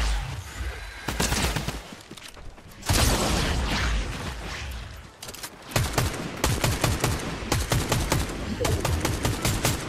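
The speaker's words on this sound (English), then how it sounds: "Am I getting shot at? Sure am." Gunfire in a video game shooter, loud close bursts of rapid automatic fire mixed with single shots, coming in dense volleys with brief pauses.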